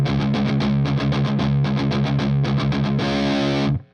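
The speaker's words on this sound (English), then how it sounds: "So let's just do that bouncing triplet riff on one string." Overdriven electric guitar pounds out a fast, bouncing triplet riff on a single string, steady rhythmic attacks ending in a brief sustained chord, loud and alone.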